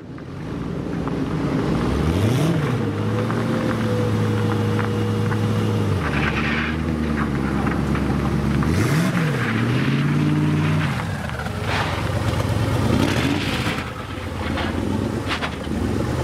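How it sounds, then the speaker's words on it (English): A Mercedes diesel car engine revs and shifts on a test drive in snow, pitch climbing and dropping through gears, loud and steady, with no talk. "I couldn't help myself but take the car out for a bit of a test drive in the snow."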